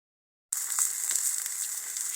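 Bubble and squeak with bits of mackerel fries in a pan on a camp stove, a steady close hiss and crackle of sizzling fat that starts suddenly after a brief silence.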